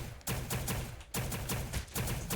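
Rapid bursts of gunfire in the video game Aground Zero, a loud fusillade of repeated shots with brief gaps between volleys, heard alone without talk.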